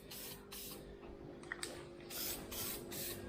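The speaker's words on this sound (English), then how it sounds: "We'll just spray it anyway." Aerosol paint spraying over welded spots on an 8 ft metal frame, several short hissing bursts, one after another and fairly close, with no talk.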